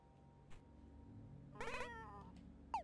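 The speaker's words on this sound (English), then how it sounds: "Or is that a meow?" A cat meows in Momodora: Reverie Under the Moonlight: a short, faint chirp first, then a clear wavering meow, and finally a brief rising mew, all over a quiet low background hum.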